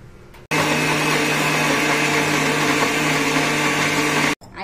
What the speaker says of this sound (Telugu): తర్వాత మిక్సీ పట్టాలి.